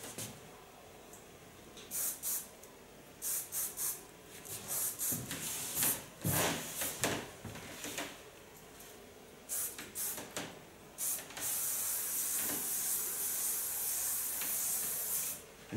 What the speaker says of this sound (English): take myself a nice soft hairspray